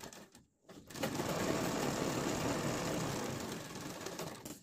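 A sewing machine runs steadily through a long basting stitch on fabric, loud and close, after a brief stop-start at the beginning, with no voices.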